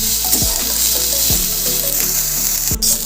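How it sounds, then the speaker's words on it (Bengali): Onion and green chillies frying in a pan for an ol kachu dish, giving a steady, loud sizzle throughout with a few brief clatters of the spatula. "ভালো করে পেঁয়াজটার কাঁচা লঙ্কাটা ভেজে নেব।"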